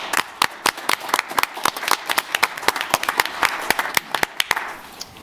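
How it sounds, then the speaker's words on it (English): Applause at a city commission meeting, a modest group clapping with distinct, irregular individual claps rather than a dense roar, steady for several seconds. "We'll give them a round of applause."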